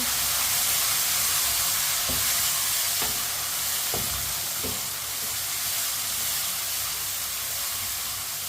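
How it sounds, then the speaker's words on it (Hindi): Finely chopped tomatoes and green chillies sizzle in a pan for Punjabi turnip curry, a loud, steady frying hiss close by, punctuated by several soft knocks of stirring. "2 टमाटर बारीक कटे हुए डालेंगे। 2 सब्ज मिर्च बारीक कटी हुई। 1 मिनट के लिए पका लेंगे टमाटर को।"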